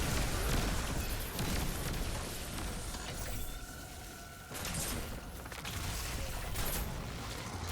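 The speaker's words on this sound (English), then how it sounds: "I'm just going to toss both my nades." In the video game Destiny 2, grenades explode in dense, booming rumbles with crackling bursts over continuous game noise, loud and close, with no speech.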